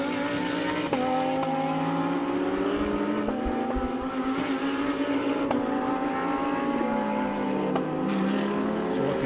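GT3 spec race cars run down the straight at the East London Grand Prix Circuit, a steady engine drone holding high revs with shifting tones and no break, heard from a distance without commentary.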